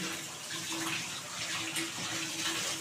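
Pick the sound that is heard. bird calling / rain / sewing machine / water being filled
water being filled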